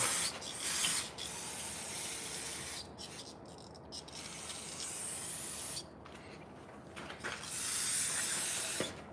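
Brake cleaner sprayed from an aerosol can around a 2010 Toyota Tacoma transmission during a service, with several close hissing bursts separated by short pauses and no talk.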